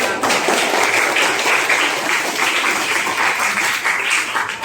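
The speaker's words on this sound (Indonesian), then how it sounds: "Tepuk tangan dulu untuk kelompok." Schoolchildren in a classroom clap for a group that has just presented, a dense burst of applause that holds steady for several seconds with no one speaking.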